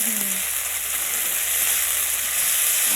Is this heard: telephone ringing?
no